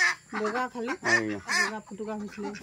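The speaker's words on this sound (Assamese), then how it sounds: "এয়া চাওক হাঁহ" Domestic ducks give a quick series of nasal quacks and honks close by, several calls in under three seconds with short gaps between them.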